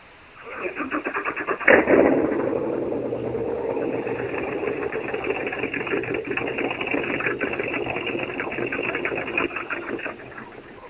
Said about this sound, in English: What Aaron's going to do for you is he's going to tempt you by starting up Breathless so you can hear the awesome power this boat has.